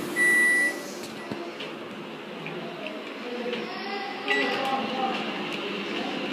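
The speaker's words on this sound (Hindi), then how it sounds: "अब इसको हम माइक्रोवेव में रखेंगे।" A microwave oven runs while baking nankhatai at 150 degrees, giving a steady low hum with a faint mechanical whir and a brief beep at the start, under and between a person speaking.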